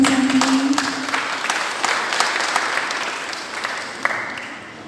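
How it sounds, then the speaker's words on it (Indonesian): An audience applauds at a children's macepat singing competition in Denpasar, Bali, with many hands clapping densely and steadily. The clapping is loud at first and tapers gradually, and a brief voice sounds at the start. "Nah, tepuk tangan Bapak Ibu sama-sama."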